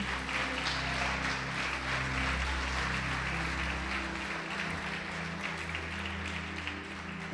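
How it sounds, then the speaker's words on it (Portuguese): A church congregation applauds during a Portuguese-language sermon, with broad sustained clapping over a low droning hum of held tones from instruments or the sound system, fading slightly toward the end. "Pode aplaudir o Senhor e glorificar."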